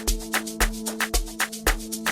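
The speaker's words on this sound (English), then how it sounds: "I have the STR strings which sound like this." STR synth strings in Caustic 3 sustain a steady chord over a looping amapiano groove of heavy kick thumps and bright percussive hits, loud and upfront with no voices.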